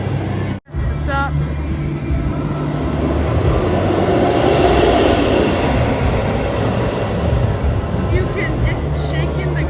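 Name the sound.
roller coaster train running during testing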